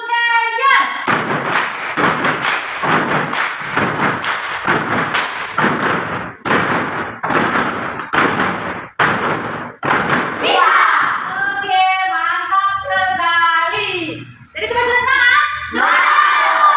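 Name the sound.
class doing a 'tepuk champion' clapping chant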